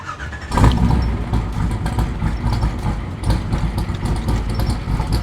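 A hopped-up 350 V8 in a 1968 Chevrolet Corvette cranks and fires, then settles into a loud, lumpy idle with repeated revs swelling and falling close by.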